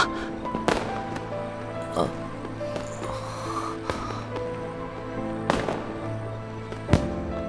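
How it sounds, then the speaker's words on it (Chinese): Festival fireworks in an animated series burst in several sharp cracks and bangs, spaced irregularly over a dense, busy background of layered music and effects. "这烟花应该是在庆祝吧？"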